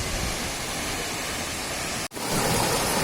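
Steady, dense rush of a waterfall roaring close by at Gitgit, Bali, broadband and unbroken, with a momentary dropout near the end before the roar resumes.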